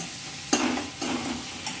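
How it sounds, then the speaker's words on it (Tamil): Onions sizzle steadily in a hot pan with a couple of scraping stirs, close and continuous. "வெங்காயத்தை போட்டு வதக்குங்க"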